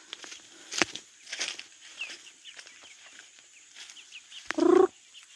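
Free-range native chickens clucking and calling around their housing, with scattered short calls and one louder, longer squawk near the end against a quiet background.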